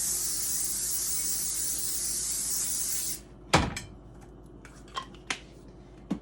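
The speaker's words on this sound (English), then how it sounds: "I just take my cooking spray and I spray them really good so nothing will stick" Cooking spray hissing in one steady, loud three-second burst onto food so nothing sticks, followed by a few light clicks and knocks of the can and kitchen items.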